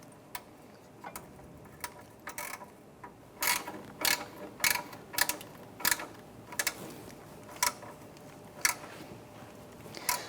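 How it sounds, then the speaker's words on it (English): Ratchet clicking in repeated short bursts while tightening four heat shield bolts on a 2007-2012 Nissan Versa exhaust manifold, close and crisp, with brief pauses between strokes and no talk. "Now that we have all 4 of the bolts installed on our heat shield, want to go ahead and tighten those down."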